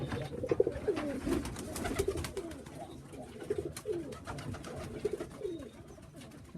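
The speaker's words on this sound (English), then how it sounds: "I believe all these might be hen birds" Young hen pigeons cooing together: soft, overlapping rolling coos repeat continuously at moderate distance over a low background hum.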